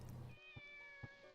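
A kitten in the video game Shenmue gives a thin, drawn-out meow, alone and faint, after a brief low rumble.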